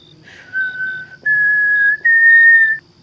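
Eerie whistling for a horror story: three drawn-out, wavering tones, each held about a second with short gaps, alone against near silence.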